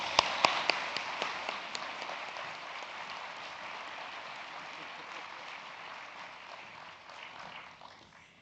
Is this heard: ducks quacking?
no